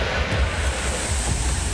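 Flooded rivers and streams surge and overflow after heavy rain in Korba, Chhattisgarh: a loud, continuous roar of rushing water with gusty rumble, no voices.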